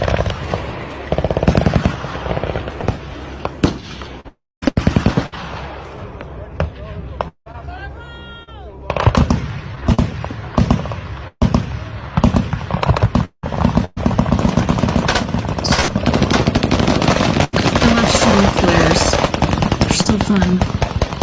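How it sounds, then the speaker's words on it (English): Rapid bursts of gunfire aimed at a UFO in the night sky, rattling fire that recurs throughout with brief gaps, heard under and between a person talking. "here we have a UFO being shot at"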